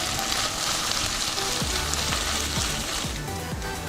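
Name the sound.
ginger garlic paste sauteing in a pan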